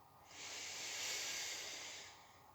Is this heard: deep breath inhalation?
yes